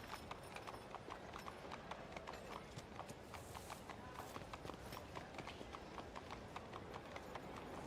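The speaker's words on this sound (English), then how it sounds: "Clippity clop, clippity clop." Steady, brisk clip-clop of horse hooves in a fantasy role-playing game, a continuous even rhythm of close, fairly quiet hoofbeats running alone without pause.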